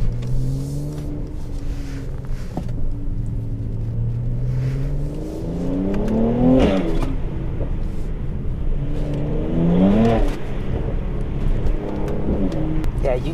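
A Mercedes-AMG C43 engine revs up hard twice, rising and falling loudly with a throaty exhaust note from a modified exhaust over a steady idle rumble.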